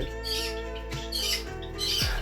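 Injured birds squawk loudly and continuously, harsh overlapping calls filling the whole stretch close to the recorder.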